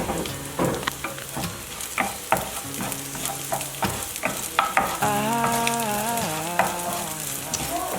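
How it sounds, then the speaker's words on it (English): Chicken fries in a pan with steady sizzling, while a utensil stirs and scrapes in quick, irregular knocks. Background music plays underneath. "fry them until brown color"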